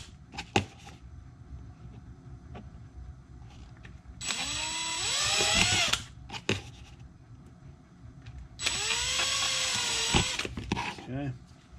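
Small handheld power drill boring into a part for a DIY hummingbird feeder heater, two sustained whining bursts of several seconds each with rising and falling pitch, close and loud, with quiet handling noises between.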